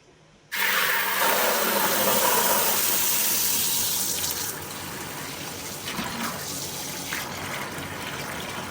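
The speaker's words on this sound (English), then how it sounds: "Now let's add water" Water pours steadily into a container loaded with a steel plate during a PLA versus PETG strength test, a loud continuous gush that eases slightly after a few seconds and keeps running to the end.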